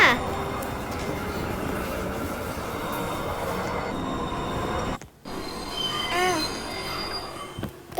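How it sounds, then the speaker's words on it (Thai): A train pulls into a station in the Roblox game Livetopia, its wheels squealing with long metallic screeches and rumbling rail noise, fairly close, while a voice speaks now and then. "ทุกคนรถไฟมาแล้วค่ะ"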